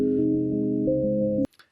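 A lo-fi synth melody with its top frequencies filtered out plays as soft, muffled sustained chords that shift a few times before cutting off sharply, leaving brief faint noises.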